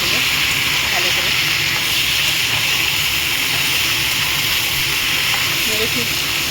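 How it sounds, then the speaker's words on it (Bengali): Ginger paste stirred in a hot pan for a cauliflower roast dish, a loud, steady hissing sizzle with faint scraping underneath throughout. "এবার নাড়বো ভালো করে"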